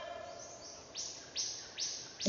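A bird gives a series of short, bright calls, about four evenly spaced chirps rising in loudness, over a quiet background hiss.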